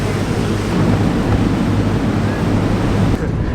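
Strong wind roars over a boat on the Chao Phraya river in Bangkok, a loud steady buffeting rush against the microphone with a low rumble underneath.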